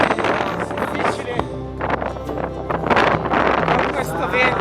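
Steady wind roars and buffets across the whole stretch, with a busy outdoor rumble and voices talking over it, during a long-distance bicycle ride through Europe toward the North Cape.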